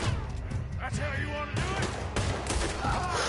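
Heavy video-game gunfire in Red Dead Redemption 2, dense loud shots and booming blasts crowding together, while someone talks over the shooting.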